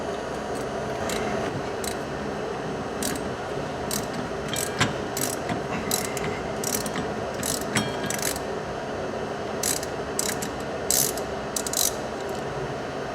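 A ratchet wrench working a stubborn hex bolt on the brakes of a Polaris Ranger 500, rapid clicking bursts in uneven runs over a continuous mechanical rattle, close by and without talk.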